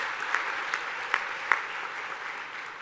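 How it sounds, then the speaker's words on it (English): A large crowd of new students applauds at a university welcome day, with a steady, dense wash of clapping that holds for the whole stretch and gradually thins toward the end. "I really would like you to applaud yourselves."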